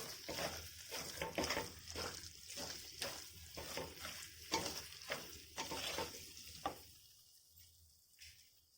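Mango thokku with salt is stirred in a pan on the stove, giving a steady, fairly quiet sizzle with a regular scraping stroke roughly every half second, close by, before it thins out near the end.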